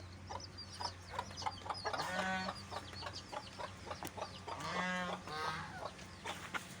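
Hens on a farm cluck and call in repeated short bursts, with a few louder rhythmic clucking runs, moderately near against a low steady background hum.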